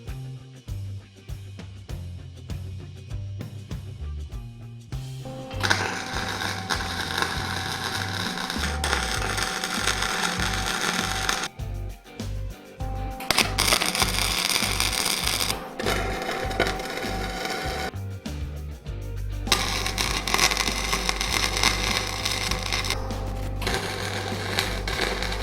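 MIG welding with solid core wire under CO2 or CO2-argon shielding gas while building a DIY gym weight tree: steady loud crackling buzz in long continuous bursts, broken by short pauses and clicks, with no talk.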